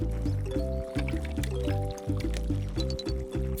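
Cartoon water effect in a children's nursery rhyme cartoon, a bouncy, bubbly pattern of repeated liquid blips and gurgles played with a tonal musical quality, steady and loud.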